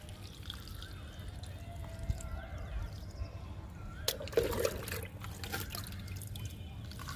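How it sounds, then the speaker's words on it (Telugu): Water trickles and drips softly into the soil of a potted plant, a faint pouring sound with a brief splashier burst in the middle against quiet background noise. "మొక్కకి వాటర్ ఇస్తున్నాను."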